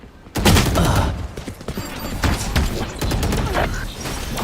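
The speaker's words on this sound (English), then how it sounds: "Gunfire being exchanged now." Rapid gunfire exchanged in a VALORANT match, sharp bursts and single shots in quick irregular succession, loud and close with a commentator's voice faintly underneath.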